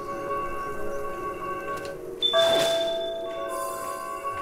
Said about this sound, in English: That's a bell thing I can ring.